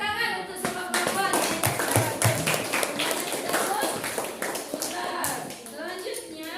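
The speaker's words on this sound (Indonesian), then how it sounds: "Tepuk tangan untuk semua perempuan" Schoolchildren in a classroom clap together for the girls, with crisp, rhythmic, fairly close claps mixed with children's voices and chatter throughout.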